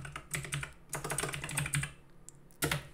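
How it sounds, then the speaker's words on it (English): Keys clatter on a computer keyboard as a create-react-app command is entered, in rapid close bursts of keystrokes with brief pauses, ending in a final firm press. "Now we're going to type this create react app"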